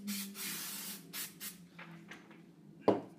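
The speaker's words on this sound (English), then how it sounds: "now we can put a little spray adhesive on the back of the stencil" Short hissing bursts of spray adhesive onto the back of a stencil, several quick sprays in the first second and a half, close by, followed by faint rustling and a sharp knock.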